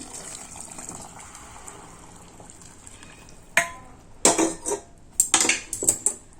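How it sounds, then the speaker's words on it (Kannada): Hot water is poured into a pan of foxtail millet for a savory fenugreek dish on a home stove, starting as a soft trickle and then turning into louder splashes and metallic clanks toward the end, with no voices. "ನಾನು ಇವಾಗ ಇಲ್ಲಿ ನೀರನ್ನ ಹಾಕೋತಾ ಇದ್ದೀನಿ"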